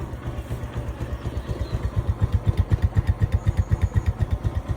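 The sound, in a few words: motorcycle engine revving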